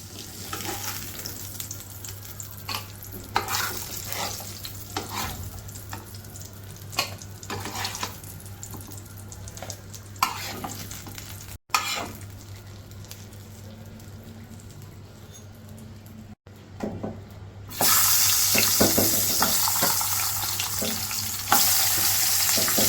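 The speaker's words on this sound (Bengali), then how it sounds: "বেগুন আলুটাকে কিন্তু ভেজে নিতে হবে খুব ভালোভাবে" Eggplant and potato pieces fry in oil in a wok, a close sizzle with scattered crackles and stirring scrapes, briefly interrupted twice, then growing louder and more intense near the end.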